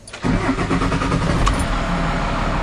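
The engine of a 1996 Dodge 2500 diesel pickup with a five-speed cranks briefly and catches, then settles into a loud, steady, rumbling idle close by.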